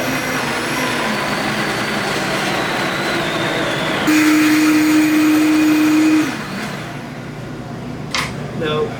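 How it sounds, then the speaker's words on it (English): A blender whirs steadily on low speed, blending gazpacho vegetables with olive oil, a loud continuous motor drone with a pitch shift midway before winding down near the end. "Just pop this on low until everything starts to blend."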